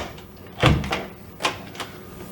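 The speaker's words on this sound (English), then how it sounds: "Door won't latch." A door that won't latch is pushed shut and lands with a dull, close thump, followed by a couple of lighter knocks and rattles as it bounces in the frame. No voices.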